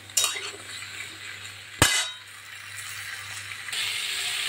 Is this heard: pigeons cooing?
no